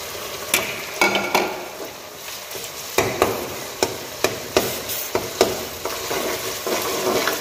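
Ginger-garlic paste frying with onions in a hot pan, a continuous crackling sizzle punctuated by regular sharp clanks of a spoon stirring against the metal, close and fairly loud with no talking.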